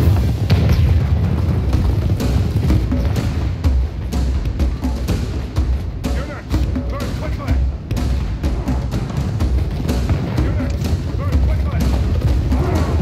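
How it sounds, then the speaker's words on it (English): Irish gunpowder weapons fire in a medieval battle in Medieval II Total War: Kingdoms, a dense, continuous rumble of booms and thuds, loud and heavy throughout, with talking over it. "the terrifying gunpowder of the Irish is a pretty devastating weapon"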